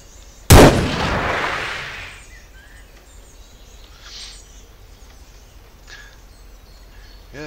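A single sharp, loud gunshot blast in Cataclysm: Dark Days Ahead, fired at a group of zombies, with a long rumbling decay trailing off into quiet ambience and faint bird-like chirps.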